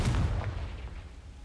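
A Confringo explosive spell cast in Hogwarts Legacy bursts with a loud low boom at the start, then a rumbling decay fades over about a second, with no voices over it.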